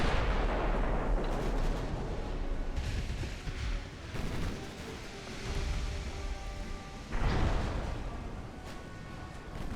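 Naval artillery fire in the warship game Ultimate Admiral: Dreadnoughts, with dense rumbling booms that roll on steadily and a heavier salvo near the end, loud and continuous with no talk.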